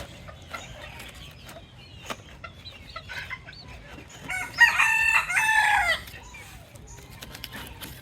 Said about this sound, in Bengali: দেখছেন কেমন করে ডাকাডাকি করতেছে অন্য মানুষের মুরগ